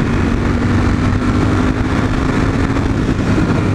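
A motorcycle engine held in third gear drones loudly and steadily, close up, with a continuous dense roar and little variation across the stretch.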